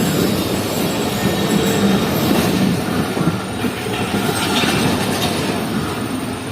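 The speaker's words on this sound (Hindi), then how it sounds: "यहाँ हमारी मुलाकात हो चुकी है 28 डाउन शालीमार एक्सप्रेस के साथ" The 28 Down Shalimar Express passenger train rolls into a station near Karachi, running late after a derailment, with a loud steady rumble of wheels, rhythmic clickety-clack and some squealing close by.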